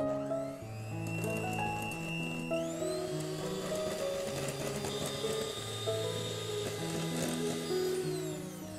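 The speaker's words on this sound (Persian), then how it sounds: "حالا من شروع میکنم با سرعت تند این زرده رو 3 تا 5 دقیقه میزنم، بستگی به سرعت همزنتون داره" An electric mixer beating egg yolks at high speed, a steady whirring motor hum with shifting pitch and rattling beaters against the bowl, continuous and fairly close.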